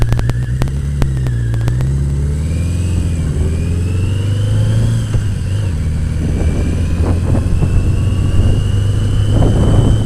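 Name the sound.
motorcycle engine accelerating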